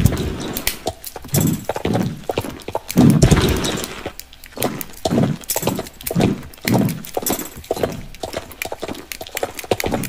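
Horse hooves clip-clop at a brisk, uneven trot in the Star Stable video game, loud and close with rhythmic thudding steps and no talking.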